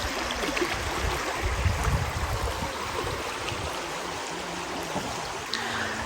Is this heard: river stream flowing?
yes